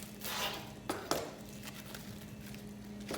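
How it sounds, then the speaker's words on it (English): A knife splits a cucumber down the middle on a cutting board, giving two quick, close knocks against the board in an otherwise quiet kitchen. "So I'm gonna split it down the middle."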